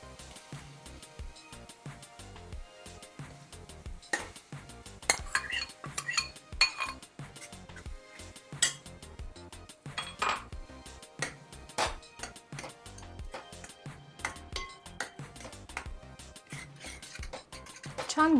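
Cooked dal being mashed in a pot with a metal utensil, repeated clattering knocks and scrapes against the vessel in an uneven rhythm, fairly close.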